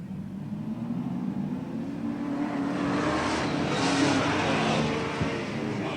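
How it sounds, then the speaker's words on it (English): Super Sedan race cars roar around the Newcastle circuit in a feature race, a steady, loud engine drone that swells mid-way as the pack passes close by, with no talk over it. "We're getting set for the Super Sedan feature."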